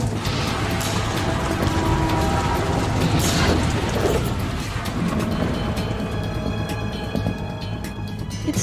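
Heavy rain pours in the video game Metal Gear Solid 2, a dense, loud, continuous hiss mixed with clanking mechanical and metallic sounds, with no speech over it.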